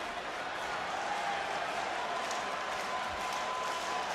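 Capacity crowd in a wrestling arena at NXT Worlds Collide, a steady roar of cheering and applause filling the space, broad and constant with no breaks.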